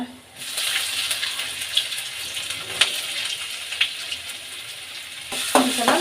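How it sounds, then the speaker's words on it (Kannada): Cumin seeds and ginger frying in hot oil in a pan, a continuous bright sizzle with a few sharp crackles and pops, stirred briefly near the end. "ಫ್ರೈ ಮಾಡ್ಕೊಳ್ಳೋಣ."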